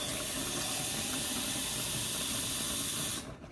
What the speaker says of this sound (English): I'm gonna pop it in this jar, which I'm actually gonna fill up one more time with hot water